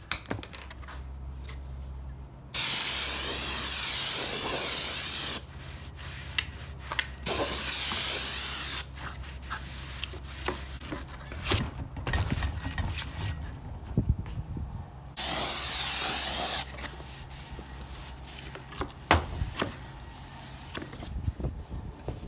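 Degreaser or brake cleaner is sprayed onto the brake rotor of a 2004-2015 Nissan Titan in several long, loud hissing bursts, with wiping, clinking and tool handling in the quieter gaps between them.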